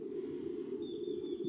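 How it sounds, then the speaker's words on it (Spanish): Small birds call faintly by a riverbank, with a thin high whistling note entering partway through over a steady low rumble of flowing water. "Pajaritos, ellos son felices, mira. ¿Por qué? Porque están a la orilla del río."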